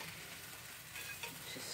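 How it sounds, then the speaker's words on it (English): Omelette eggs with cheese and scallions cook in a pan, a faint, steady low sizzle with light scraping as the edges are worked, heard alone without speech. "Just going around the edges here, cooking the eggs."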